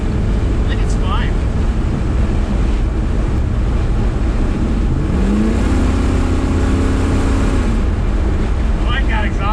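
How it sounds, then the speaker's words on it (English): A 1968 Chevrolet big block pickup truck runs with a loud, steady low exhaust rumble close by, the engine note droning continuously throughout, with a brief rising tone midway. "Oh, I got exhaust on this thing,"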